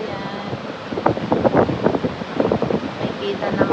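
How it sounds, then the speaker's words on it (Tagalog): Strong wind from Typhoon Sinlaku in Guam roars and buffets the microphone in a steady rush, with a person talking over it. "may kita na mahangin pa talaga"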